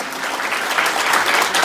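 Applause from a seminar audience, a loud, dense wash of clapping from many people, close and sustained without a break.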